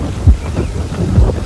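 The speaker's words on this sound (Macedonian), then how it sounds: "Има малку ветер, Леся" Outdoor wind buffeting the microphone, a low, gusty rumble that swells in a few irregular bursts at close range, with no voices.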